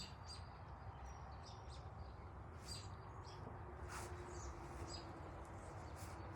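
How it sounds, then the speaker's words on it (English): Numerous robins call and chirp around a listener outdoors, scattered short high chirps repeating close by over a steady broadband background hiss. "I'm surrounded by 30 robins"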